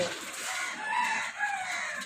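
Chickens clucking and crowing close by, several birds calling over a noisy farmyard background.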